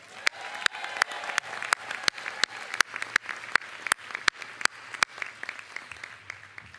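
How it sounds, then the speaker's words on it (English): Steady applause from a large crowd at a graduation ceremony, sustained clapping with occasional sharper claps standing out, continuing throughout. "I think you all deserve a round of applause."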